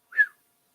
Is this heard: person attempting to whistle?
yes